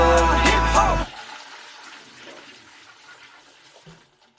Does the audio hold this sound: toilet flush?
yes